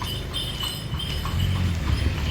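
Horse hooves clip-clop steadily on the stone streets of Chania's old town in Crete as a horse-drawn carriage passes, with the even, repeated strikes heard up close over street ambience.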